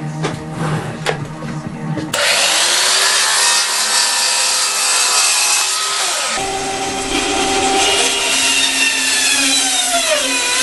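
A saw cuts through a 1-inch oak piece for the top and bottom of a wooden candy machine: a few light knocks, then a loud continuous rasping cut running close for about eight seconds.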